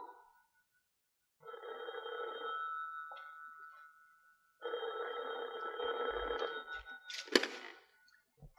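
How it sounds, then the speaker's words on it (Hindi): An old-style telephone bell rings indoors in two long bursts separated by a short pause, followed by a brief clatter as the receiver is picked up; no one speaks. "अरे भाई, कोई टेलीफोन तो उठा लो।"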